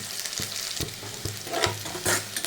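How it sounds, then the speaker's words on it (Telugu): Curry leaves fry in hot oil for a brinjal curry, giving a close, bright sizzle with repeated sharp spits and pops across a short stretch, with no voices. "కొంచెం కరివేపాకు కరివేపాకు కూడా వేసాను"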